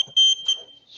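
A kitchen timer beeps beside a noodle dough mixer during fresh Lanzhou ramen making, giving two short, high electronic beeps close by over a quiet background.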